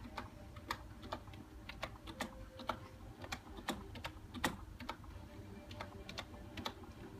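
Keys clack on a computer keyboard connected to an Xbox 360 in irregular bursts of close, crisp taps, quiet and unhurried, with no talking.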